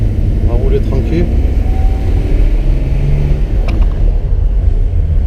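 A BMW E36 325 tds diesel car drives along, its loud, steady engine drone and road rumble heard from inside with people talking over it.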